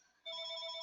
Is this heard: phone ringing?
yes